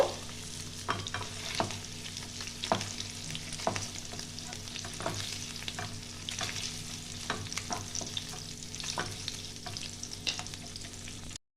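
Paneer pieces frying in a kadai for a Bengali niramish paneer masala, a steady close sizzle with occasional stirring scrapes running throughout, no voices.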